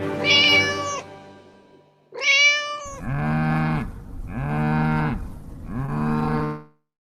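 Someone imitates animal calls aloud: two high, wavering meows followed by three long, low drawn-out moos, close and clear with short pauses.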